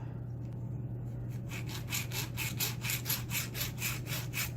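Hacksaw starting a marking cut in a metal lock part for a handmade challenge lock, a close, steady back-and-forth rasp of about a dozen even strokes over a constant low hum.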